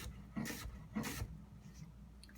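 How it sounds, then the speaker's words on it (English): Two quick, faint crunching knife strokes rock through an onion on a cutting board, spaced about half a second apart in a quiet kitchen. "using that nice, smooth, rocking cutting motion, we'll just start cutting here, about one cut every 1/8 of an inch or so"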